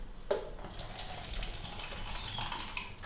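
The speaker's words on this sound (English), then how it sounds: "room temperature tap water" Room-temperature tap water runs steadily from a faucet while tea is being made, a continuous close hiss and gush with no voices.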